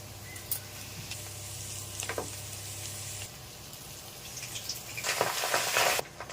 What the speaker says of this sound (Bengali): গাজরগুলো প্রায় ভাজা হয়ে যাচ্ছে